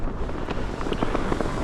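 Gusty wind buffets a mountain campsite above 3000 ft in the Lake District after rain, a steady, rough broadband rush that stays loud and close for the whole stretch.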